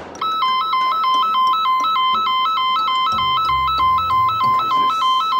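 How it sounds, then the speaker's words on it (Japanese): A station emergency button alarm at a railway museum, a loud, rapid two-tone electronic beeping that repeats steadily and close by, with a brief low thump partway through. "よく駅でもある非常ボタンをね、ちょっと押してみたいと思います。"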